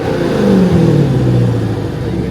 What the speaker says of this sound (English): So I'm gonna hop in and give you guys a couple of revs.